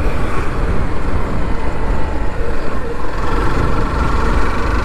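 A two-wheeler engine runs steadily and loudly, a dense continuous rumble that holds level through the whole stretch with no talking; individual gear shifts are not distinct.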